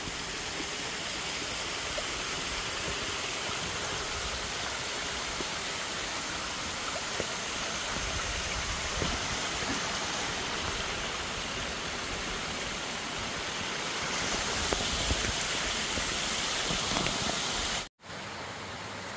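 A steady, broadband rush of a waterfall and flowing stream on the Foothills Trail fills the whole span, dense and constant, growing slightly brighter toward the end before a brief cut.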